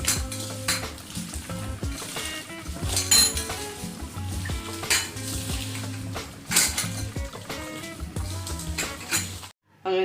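Chicken is worked together with masala by hand for Hyderabadi biryani, making wet squelching and shuffling sounds with scattered clinks of a bowl and utensils, close up and continuous.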